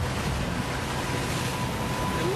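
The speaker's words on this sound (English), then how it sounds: "wind's blowing 45, 50 knots" Strong wind blowing around 45 to 50 knots over rough sea on a lobster fishing boat off Australia, a continuous roaring wash of wind and breaking waves with no speech.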